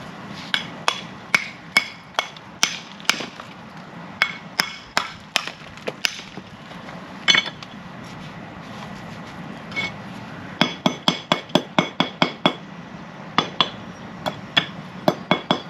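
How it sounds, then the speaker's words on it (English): A hammer taps repeatedly on a brick during bricklaying, sharp clicking knocks in irregular bursts, some quick runs of taps, close and fairly loud. "that fill brick, I use a hammer to tap it sometimes"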